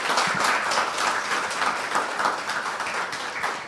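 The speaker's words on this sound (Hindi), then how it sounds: "बजाओ ताली" Audience applause at a Hindi New Year poetry gathering, a dense steady wash of many hands clapping throughout, fairly loud and close with no talk.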